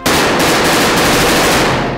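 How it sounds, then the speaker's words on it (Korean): Dense, sustained machine-gun fire rattles loudly and continuously through a film scene about a terrorist attack on a hotel in Mumbai, rapid bursts blending into a harsh, unbroken barrage. "예기치 않은 타이밍에 귓전을 사정없이 때리는 총성과 비명"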